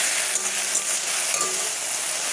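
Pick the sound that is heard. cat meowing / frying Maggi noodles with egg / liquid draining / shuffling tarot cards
frying Maggi noodles with egg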